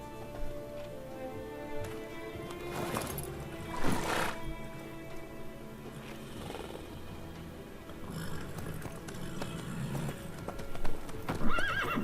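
A horse gallops and neighs in The Witcher 3: Wild Hunt, rhythmic hoofbeats carrying on for the whole stretch with a loud whinny partway through and brief dialogue faint in the background.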